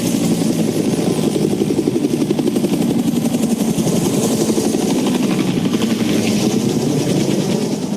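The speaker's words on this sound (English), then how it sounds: "they're real helicopters" Loud, steady rotor chopping and engine roar of a helicopter, close and continuous with a rapid pulsing beat.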